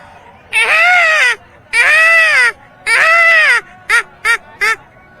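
A man imitates a peacock call with three long, loud, wailing cries followed by three short sharp yelps, heard close and alone.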